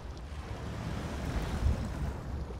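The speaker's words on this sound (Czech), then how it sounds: "Tak pojďme s tím zkusit hupsnout do vody." A truck in the SnowRunner game plunging into water, a steady low rushing, sloshing wash with a broad noisy surge midway, moderately loud, with no talk.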